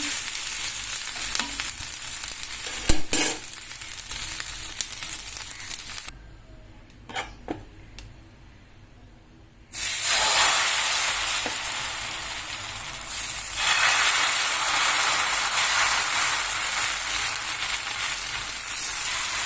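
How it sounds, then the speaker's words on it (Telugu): A dosa frying on a pan as its second side cooks after a little oil is added, steady close sizzling that cuts out briefly and then returns louder and hissier. "ఇప్పుడు దోశ రెండో వైపు టర్న్ చేసుకుని రెండో వైపు కూడా బాగా పాల్చుకుందాం"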